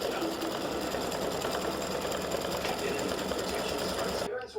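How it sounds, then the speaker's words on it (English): An embroidery machine satin-stitches around the outside of a hat brim on a free-standing lace St. Patrick's Day piece, with a loud, steady, rapid whirring and needle chatter that runs continuously before cutting off abruptly at the end. "now it's going around the outside of the brim of the hat, and it'll do the satin stitching around the outside"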